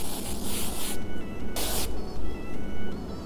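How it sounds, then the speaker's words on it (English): L'Oreal Colorista temporary hair color spray hisses from an aerosol can in steady, loud bursts, close up, with a brief pause in between. "you can just pick a little bit and spray"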